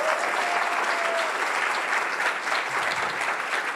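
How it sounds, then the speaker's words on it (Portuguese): An audience at a collaboration event applauds a speaker, giving a dense, steady wash of clapping that holds at an even level for the whole stretch, with faint voices mixed in beneath. "Uma palmas para ele, vai."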